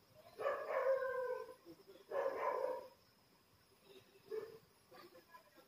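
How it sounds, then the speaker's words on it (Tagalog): A dog barks in noisy, drawn-out bursts, two loud close calls followed by fainter yips, amid a busy indoor setting with a voice nearby. "ang ingay ng aso ko"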